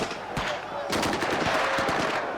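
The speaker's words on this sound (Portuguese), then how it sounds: "A resposta é com rajadas de metralhadora." Police machine guns fire repeated bursts during a roadside clash between military police riot troops and landless protesters, sharp loud cracks in quick rapid runs over a noisy outdoor background.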